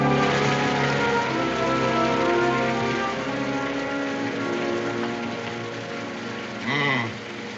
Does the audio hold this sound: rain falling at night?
yes